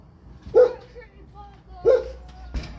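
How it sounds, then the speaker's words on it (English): Dogs bark at neighbours outdoors on a bright, hot day: three separate barks spaced over a couple of seconds, fairly close, with a low voice in between. "They're barking at the neighbors."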